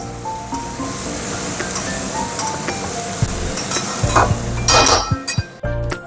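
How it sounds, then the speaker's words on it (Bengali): Rice and lentils fry lightly in a pan, giving a soft sizzle beneath stirring scrapes and scattered metallic clinks that grow busier toward the end. "চালটা আর ডালটা একটু ভেজে নেবো হালকা করে"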